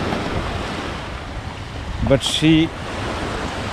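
Moderately active ocean waves washing against a Prince Edward Island shore, a steady soft surf wash mixed with wind buffeting the microphone, with a person briefly speaking over it partway through.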